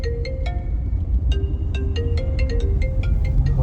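A mobile phone rings with a bright electronic melodic ringtone, a quick sequence of rising and falling tones that carries on loud and close over a low background rumble.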